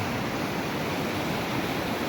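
Swollen Gold Creek in flood rushes past, a steady, broad roar of churning water close by and fairly loud, unbroken throughout with no voices.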